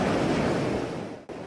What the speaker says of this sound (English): Just listen to those waves.